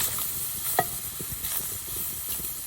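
Fish fries in a little oil in an iron pan over a low flame, giving a steady, soft sizzle with a faint crackle and a light stirring scrape.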